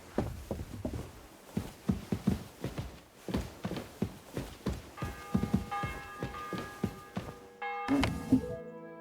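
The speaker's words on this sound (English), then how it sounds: "The bell's ringing for Hans the 5th time." A bell tolls in the medieval game Kingdom Come Deliverance 2, its ringing tones sustaining toward the end after a steady series of dull thudding footfalls.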